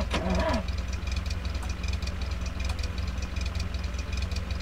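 A car engine in The Long Drive cranks to life with a short starter whine, then settles into a steady, rhythmic idle rumble that carries on loud and close.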